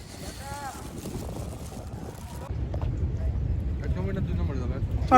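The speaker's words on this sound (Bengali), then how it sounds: "চলো নৌকাতে উঠে আগে ওপারে চলে যাই" A boat crosses a river to the far bank, with broadband wind and water rush that grows louder halfway through and people talking over it.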